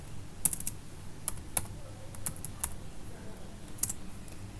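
Close computer keyboard typing of a Windows shutdown command: a few quick, sharp keystrokes in short bursts with brief gaps, over quiet room noise.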